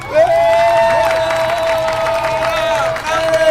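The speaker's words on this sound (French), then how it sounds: "Applaudissez-le très fort." Outdoor crowd at a community event cheering and applauding as a man is introduced, loud with a sustained high whistle or shout over clapping and babble of voices.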